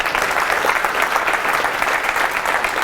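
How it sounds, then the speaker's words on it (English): Audience at a young men of color conference breaks into applause, a dense, even roar of clapping that holds steady and fairly loud throughout, with no speech over it. "Give a round of applause for this brother right here."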